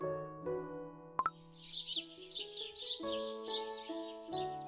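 In the CookieRun: Kingdom video game, little birds twitter in quick, repeated chirps over a gentle melodic score, with a brief plopping tap early on.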